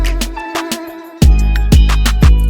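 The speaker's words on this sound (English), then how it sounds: "I found this analog sound that creates that sense of synth texture like you hear in the video" An analog synth sustains a single note in a beat, with punchy drum hits landing every half second or so over the steady, loud tone.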